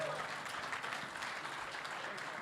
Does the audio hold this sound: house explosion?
no